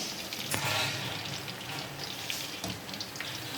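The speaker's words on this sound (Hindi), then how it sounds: "हमने इतना फ्राई करना है गोल्डन बिल्कुल ब्राउन हो जाए" Chicken pakora pieces deep frying in hot oil, giving a steady broadband hiss with a few brief clicks and splashes, fairly close and continuous, with no voices.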